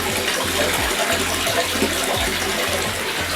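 Water from an Aquascaper 1200 aquarium drains out steadily as loose detritus is siphoned away, a continuous close gushing rush of water.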